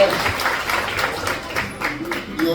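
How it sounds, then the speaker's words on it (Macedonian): Applause ripples through a hall at a karate awards ceremony, moderate clapping from the audience mixed with speech. "Аплауз, така е."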